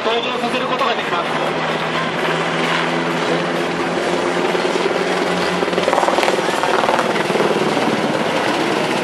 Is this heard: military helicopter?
yes